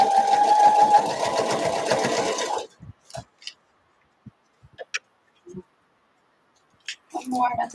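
A domestic sewing machine runs at steady speed stitching a fabric seam for 2–3 seconds, loud and close, then stops, leaving faint handling clicks and small taps before a brief burst of other noise.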